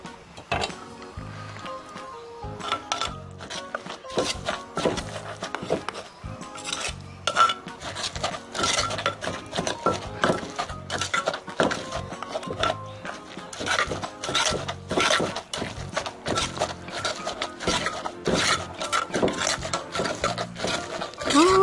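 Continuous rhythmic pounding and grinding of shrimp salad ingredients in a mortar, dense wooden knocks and scraping repeating steadily at close range throughout, with no talk.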